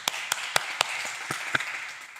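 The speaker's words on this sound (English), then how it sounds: "round of applause to them." Audience applause at a live startup pitch evening in New York, a handful of sharp individual claps that thin out toward the end, with no talking.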